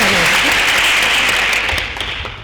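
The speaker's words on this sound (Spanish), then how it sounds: "Un aplauso, por favor." An audience at a university conference on violence against women gives a dense, loud, sustained round of applause that fades slightly toward the end.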